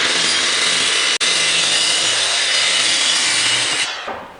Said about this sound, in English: I'm going to go ahead and cut this right to the side of my joist